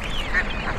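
Ducks quack at a village poultry market, where white and coloured ducks are unloaded for sale; short, moderately loud calls sit over steady market bustle.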